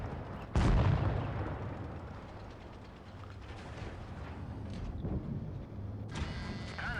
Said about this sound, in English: Shooting into the back, obviously there's going to be no problems whatsoever.